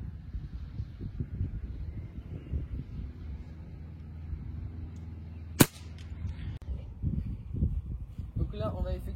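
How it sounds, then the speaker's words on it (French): A single sharp crack from a GAMO HPA IGT air rifle fired at 75 metres outdoors, sudden and loud amid wind noise and low murmuring talk before and after. "Ok, du coup, c'est parti pour un tir à 75 mètres."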